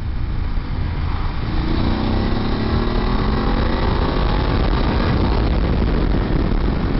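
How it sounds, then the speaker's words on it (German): A BMW F850GS motorcycle engine roars steadily as it pulls hard through third gear, loud and continuous with rushing wind noise and no talking. "oben rum, da beginnt der Motor schon richtig zu brüllen"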